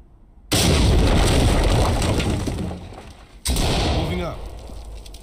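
A loud in-game explosive detonation in the tactical shooter Ready or Not bursts in abruptly and rumbles on, then a second heavy blast follows, with voices talking over the noise.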